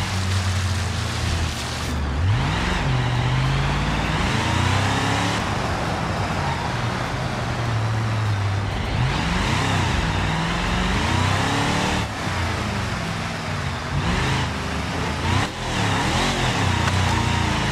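A car engine in the BeamNG driving game hums steadily under cruise control at 75 km/h, with loud continuous drone and road noise and gentle rising and falling pitch as the throttle adjusts automatically.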